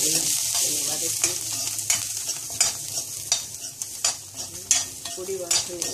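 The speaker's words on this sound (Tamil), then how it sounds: "அதோட சாம்பார் பொடியும் போட்டு நல்லா கொஞ்சம் எண்ணெய் எடுத்து" Fenugreek leaves and sambar powder sauté in oil for a fenugreek gravy, a continuous close sizzle broken by repeated scraping stirs of a utensil in the pan.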